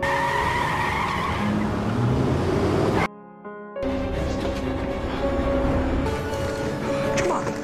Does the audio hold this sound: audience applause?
no